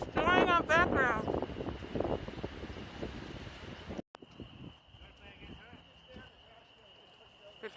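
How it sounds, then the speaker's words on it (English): Strong wind blows outdoors, buffeting the microphone with a rough, gusty roar. Voices talk over it at first, and then the wind carries on alone, fainter and steadier. "too windy out here"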